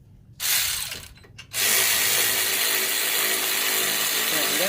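A Harbor Freight Earthquake impact wrench is used during a brake job on a Toyota Matrix, Corolla or Pontiac Vibe, with a short burst followed by a loud, sustained, close-up mechanical whirr and hammering.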